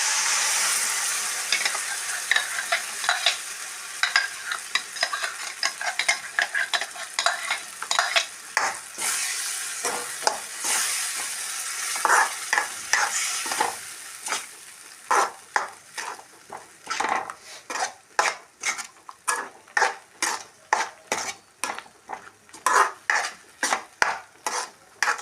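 Kadala chickpea curry with coconut milk bubbling in a pot while being stirred, a steady sizzling simmer broken by repeated scraping strokes of a spoon against the pan that grow sharper and more rhythmic toward the end, with no talking.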